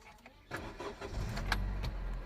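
A Honda City cranks and starts after sitting parked for months, a short series of starter turns catching into a low steady idle rumble, close by.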